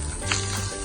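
Shallots, chillies and curry leaves sizzle and crackle in hot oil in a pan, a short, quiet, steady frying hiss with a faint stir.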